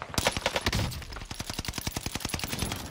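Rapid automatic gunfire from the video game Warzone, a fast, steady string of sharp shots lasting a few seconds, loud and close.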